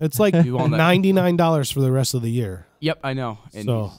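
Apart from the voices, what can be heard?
No everyday noises stand out.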